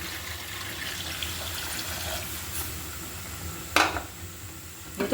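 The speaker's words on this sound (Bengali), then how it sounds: "এই পর্যায়ে কিন্তু আমি ঝোলের পানি আরও অ্যাড করে দিচ্ছি।" Water poured into a simmering fish curry with fenugreek makes a steady, rushing trickle for several seconds, followed by a sharp splash and a faint clink of a pan.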